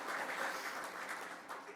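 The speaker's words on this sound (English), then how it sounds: "so give Joe a round of applause" Audience applause at a World Environment Day food waste and environment luncheon, a steady, moderately faint patter of clapping from a gathered crowd lasting a couple of seconds.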